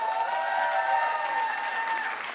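Steady, dense applause from a concert audience, a broad wash of many hands clapping at constant loudness throughout, with a faint tonal ringing underneath.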